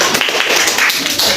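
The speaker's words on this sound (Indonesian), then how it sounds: "Oke, tepuk tangan kita semua." A fourth-grade class claps hands together in a classroom. The clapping comes as a short, loud burst of mixed claps lasting just over a second.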